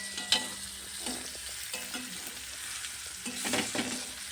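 A spice mixture with tomato for a banana-flower curry fries in a pan with a soft constant sizzle, punctuated by repeated stirring scrapes and light clinks of a spatula.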